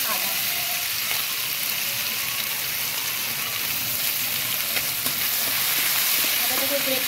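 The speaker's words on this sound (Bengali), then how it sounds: "আদাটাকে একটু ভেজে নেব" Grated ginger hits already hot oil with whole cumin and dried red chillies in a pan, giving a steady loud sizzle and hiss that runs unbroken, with a few louder crackles and pops near the end.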